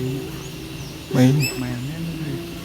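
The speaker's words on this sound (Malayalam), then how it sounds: "കാട്ടുമൈന. മൈന മൈന കാട്ടുമൈന." A jungle myna gives a single short call at close range, a brief sliding chirp set against steady outdoor background noise, with faint talking around it.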